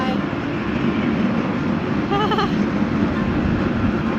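A steady rumbling ride aboard a small tourist train at a resort in Khao Yai, Thailand, with people talking over it and a brief warbling tone rising in the middle.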